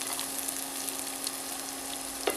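Chopped onions fry in hot oil in a pan while noodles made from rice flour are being cooked, giving a steady close sizzle with crackling spits and a brief stir near the end.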